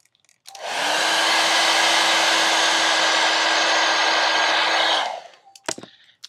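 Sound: hair dryer blowing

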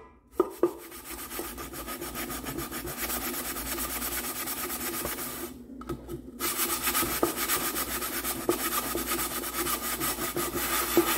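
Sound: scrubbing rust off with a magic sponge

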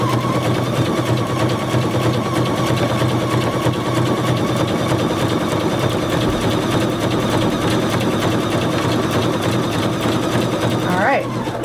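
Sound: sewing machine stitching down a ribbon

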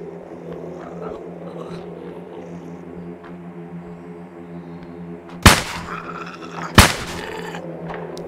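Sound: gunshots from a gun in the video game Survive the Nights

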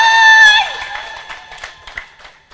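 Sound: wedding guests clapping and cheering for the couple

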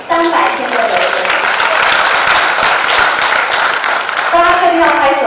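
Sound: audience applause at a conference talk

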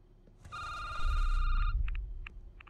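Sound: telephone ringing in a video game

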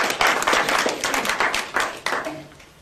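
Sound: audience applause

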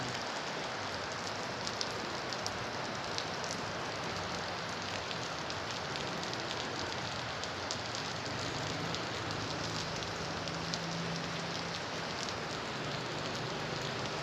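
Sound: heavy rain

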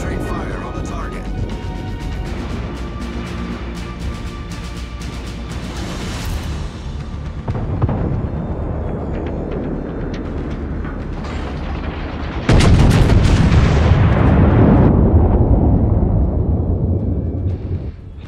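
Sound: warship guns firing on a target, from a video game

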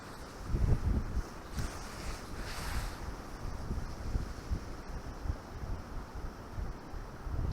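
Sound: wind

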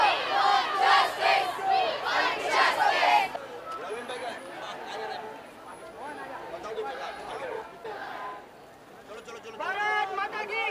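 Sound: protesting crowd shouting

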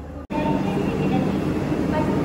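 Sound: Visakhapatnam to Bengaluru express train at station platform

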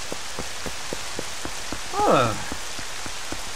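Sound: rain falling in the video game The Legend of Zelda: Twilight Princess

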